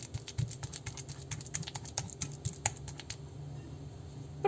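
A ripe nanica banana is mashed with a utensil for a three-ingredient banana cake, making a quick run of soft clicking and tapping sounds that stops abruptly, with a brief knock at the end.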